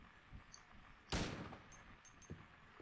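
A single pistol shot fired in the survival-horror game Silent Hill 2, one loud sharp crack with a short ringing tail, standing alone over a quiet ambient game backdrop.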